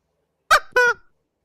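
A fowl gives two short, sharp clucks in quick succession, loud and close, with silence around them.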